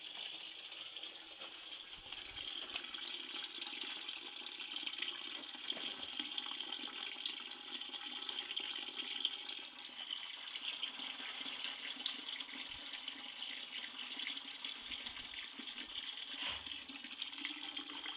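Water from a boiler pours steadily into a corn mash tank, a continuous splashing gush that keeps up the whole time, close by and fairly quiet, with no voices.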